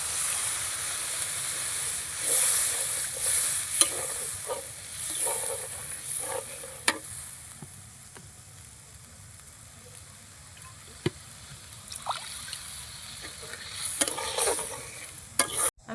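Cashew paste masala sizzles and is stirred in a pan for an egg and fish curry, with scraping strokes and bursts of hissing, loud at first and then quieter and more even, with no voices.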